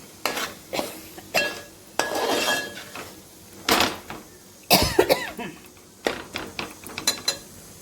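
Ground dried coconut with ginger and garlic paste sautéed in a pan for a dried bombil curry, heard as close scraping and clinking of a spoon against the pan in uneven bursts, with occasional coughs.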